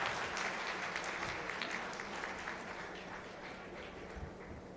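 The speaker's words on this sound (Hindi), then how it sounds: "उसके लिए बहुत तालियां" A large audience applauds at a Buddhist conference in Nagpur, a faint, distant, continuous wash of clapping that slowly tapers off.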